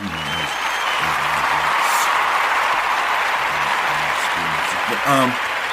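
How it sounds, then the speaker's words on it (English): An audience at a talk gives a round of applause, a dense, steady wash of clapping that lasts several seconds, with a voice speaking over it at times. "we want to once again give Ujamaa a round of applause"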